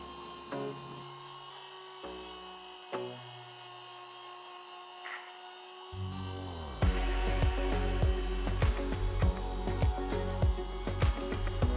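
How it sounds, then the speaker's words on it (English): A motorized tool sands glue squeeze-out off the edges of a stitched leather wallet. A whining motor starts and stops in short bursts, then runs steadily with a louder, rougher grinding tone. "I sand down any glue, squeeze out and clean the edges."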